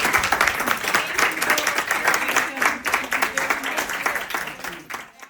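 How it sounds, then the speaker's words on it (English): Applause from an audience at a marketing and sales session, with individual claps clearly distinct in an uneven rhythm, moderately loud and holding steady before thinning at the very end. "can you guys give another round of applause for our"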